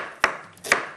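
Two sharp knife chops through onion on a cutting board, spaced about half a second apart, close and crisp with quiet kitchen room tone between.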